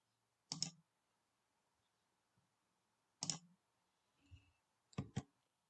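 Computer mouse clicks sound while working in LTspice circuit simulation software: a sharp single click, another after a pause, a soft shuffle, then a quick double click, all close and isolated in a quiet room.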